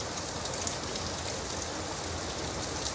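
Rain falls on leaves and stone in a constant, gentle patter, a soft even hiss with scattered drop ticks and no other sounds.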